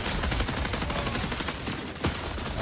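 Rapid gunfire from several weapons in the Marathon shooter game, bursts of automatic shots overlapping in a dense, continuous barrage with a heavier blast near the end, loud and close throughout.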